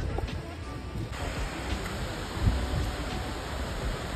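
A waterfall beside the stone-stepped trail to Hemkund Sahib, heard as a steady, broad roar of rushing water that holds even and moderately loud throughout.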